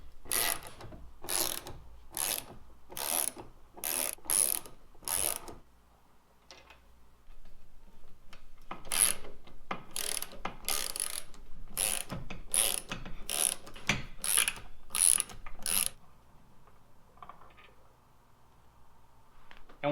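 Roof rack side rail bolts on a Toyota 4Runner being loosened with a ratchet, giving loud, close bursts of rapid clicking that repeat in two clusters with short quiet gaps between them.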